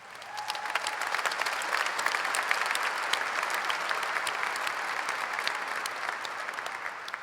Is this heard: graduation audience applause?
yes